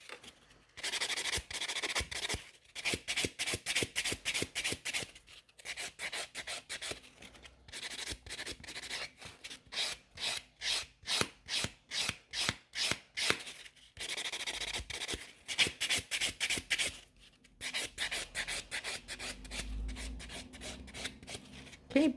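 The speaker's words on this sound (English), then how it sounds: "So when I'm buffing, I'm starting kind of pretty fast, and then I'm slowing down on the sides around the cuticle area." A buffer rasps across gel nails around the cuticle, in rapid rhythmic strokes that come in bursts with short pauses, some quicker and some slower, close and crisp with no talking.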